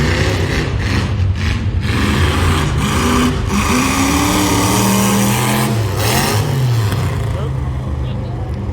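A 1975 Chevy Camaro demolition derby car at full throttle during time trials, engine roaring loud and close with rising and falling revs, and an announcer talking over the din.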